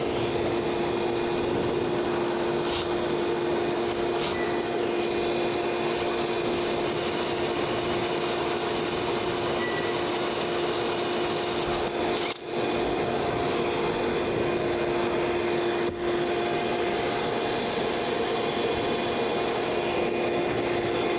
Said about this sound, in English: I'm going to turn the vacuum on this time.